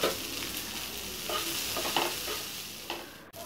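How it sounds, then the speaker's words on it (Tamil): Leftover idli upma stirred in a hot pan with a steady scraping, sizzling rustle and a few louder spatula scrapes, close and alone with no voices. "இப்போ எல்லாமே சேர்த்து கொஞ்சம் நல்லா கலரி விட்டு விட்டா நம்மளோட இட்லி உப்புமா ரெடி ஆயிடும்"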